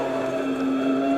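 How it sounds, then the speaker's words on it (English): A touring car engine revs hard and close at racing speed, a loud sustained whine holding a steady high pitch through the whole short burst. "Now just listen to the engine revs,"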